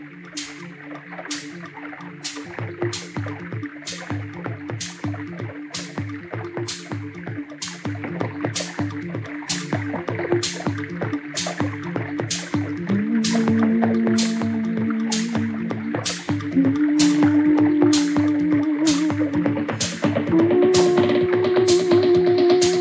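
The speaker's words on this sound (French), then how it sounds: "j'ai mis des sons de robinet qui coulent, comme je les appelle, avec des rythmiques un peu électro" Rhythmic dripping, trickling running tap water sounds pulse steadily through an electronic track, with sustained synth tones rising in steps beneath the beat.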